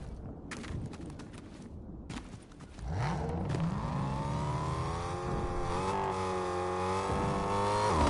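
Car in the Fortnite video game, first rattling and clattering, then an engine revving up with a rising, sustained harmonic whine that grows louder and holds steady to the end.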